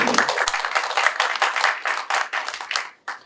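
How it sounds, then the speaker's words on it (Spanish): Audience at a Spanish-language law lecture claps to welcome the speaker, a dense round of applause that holds steady and then thins into a few scattered final claps. "Les pido un aplauso para darle la bienvenida."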